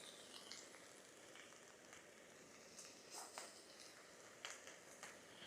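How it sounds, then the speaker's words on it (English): Faint, steady crackling and spitting hiss like food frying in a hot pan, with occasional louder pops, heard alone without talk. "Hear the sizzle."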